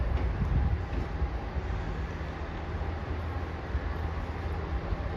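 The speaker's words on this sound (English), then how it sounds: "You can see how much the train bumps as it goes across some of these bumps here." Continuous low rumble of a train rolling along the track at Crewe, with a steady rushing noise and slight jolts over bumps and joints.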